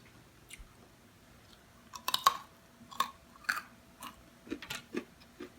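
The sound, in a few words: crunchy chewing of jaggery peanut brittle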